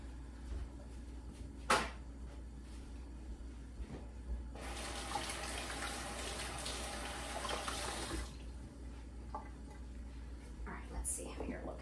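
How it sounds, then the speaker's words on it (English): Running water from a kitchen tap as hands are washed, a steady broadband rush lasting a few seconds in the middle, with a brief knock beforehand and quiet kitchen noise around it. "wash my hands"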